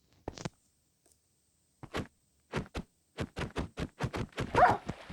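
A dog barks in short, sharp yips and whimpers, starting sparse and then coming in a quick run of repeated barks, fairly close.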